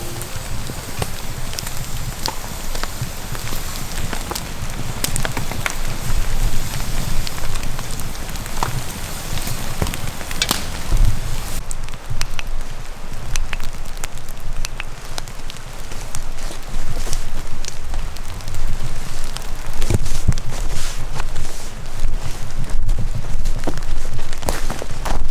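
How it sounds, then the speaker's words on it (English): Steady rain falls outdoors at night in West Virginia woods, a dense crackling patter that is loud and continuous, with occasional heavier drops and no talk. "Another very rainy night out here."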